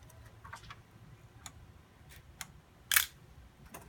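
A 35mm SLR camera shutter fires once at 1/1000 second, a single sharp, crisp click that stands out close and loud after a few faint ticks and handling noises in an otherwise quiet room.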